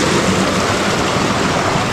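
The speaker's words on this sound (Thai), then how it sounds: "คือน้ำตกมันมาสองฝั่งนะครับสายนี้ก็จะเป็นสายหนึ่งแต่น้ำค่อนข้างที่จะน้อยนะครับ" Waterfall at Tao Ngoi, Sakon Nakhon, flowing with a low volume of water: a loud, steady broadband rush with no breaks, heard alone without talk.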